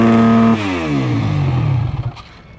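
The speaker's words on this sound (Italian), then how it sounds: "Dai, cacciaci un limitatore." A motorcycle engine holds hard against the rev limiter at a stunt event with a loud, steady buzzing drone. It then drops off and stutters down in choppy bursts before fading, close to the microphone.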